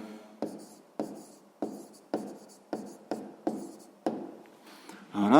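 Pen or pencil writing by hand on paper while working a sixth-grade maths exercise, heard as eight or nine distinct scratchy strokes at a steady rhythm, close and fairly quiet, with no talking over it.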